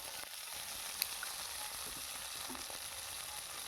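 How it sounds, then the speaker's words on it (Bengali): Tomatoes fry in a hot pan during home cooking, giving a steady, dense sizzle that holds level throughout. It is fairly close, with a faint clink or two and no speech. "টমেটোগুলো আমি দিয়ে দিছি"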